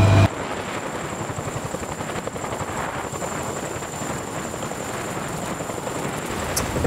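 An Army National Guard Chinook heavy-lift helicopter flies nearby during sling-load training with the Air Force, its rotors producing a loud, steady rapid chop over a dense continuous roar that holds throughout.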